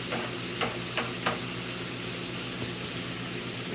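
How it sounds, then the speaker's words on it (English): Food simmering and sizzling in a crowded pan, a steady hiss with a few soft stirring scrapes near the start, close and fairly quiet with no talk. "Let that simmer."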